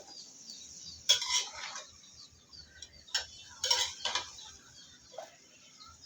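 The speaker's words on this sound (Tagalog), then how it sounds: "Haluin natin muna" Sautéed vegetables are stirred in a pan with a utensil, making two bursts of metallic scraping and clinking against the cookware, with a faint bird or fowl call in the quiet background.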